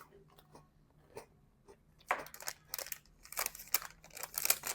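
Close crunching bites into small crispy 7-Eleven chocolate balls, soft mouth sounds at first, then a run of louder, sharp crunches in quick succession, recorded up close with no talk.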